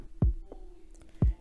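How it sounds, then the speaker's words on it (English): Two punchy kick drum hits landing on the offbeat about a second apart in a simple beat, each a deep booming thump over a faint sustained tone, no voices. "After the claps, I just added some kicks on the offbeat."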